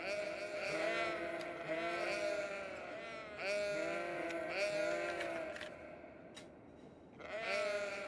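Repeated sheep bleats from the city-building game Cities Skylines, several overlapping calls in bursts separated by short gaps, loud and close.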